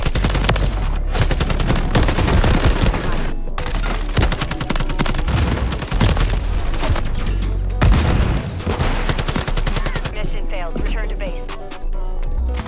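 Rapid automatic gunfire in MW3 Vortex zombies mode, loud and nearly continuous bursts with heavy booming impacts, dense and close throughout, easing slightly near the end.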